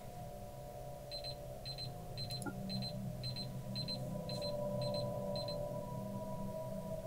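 An alarm clock beeps in a steady series of short double pulses, about nine in a row at an even rhythm, clear above a constant low background drone with no talk.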